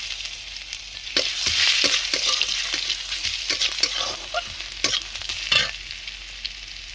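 Chopped garlic drops into hot oil that already holds dried chillies and bay leaves, setting off a loud burst of sizzling that fades into a steady fry, with the spoon scraping and tapping the pan now and then.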